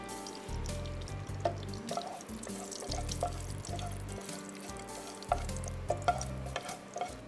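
Whole spices (cardamom, cinnamon, bay leaf) sizzle softly in hot ghee, a faint crackling hiss with gentle stirring and low rhythmic background hum.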